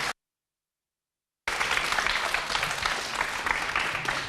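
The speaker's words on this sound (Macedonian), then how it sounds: "ајде да чуеме еден аплауз" After a short silence, a studio audience breaks into steady, full applause that continues to the end, honoring a girls' volleyball team that placed fourth.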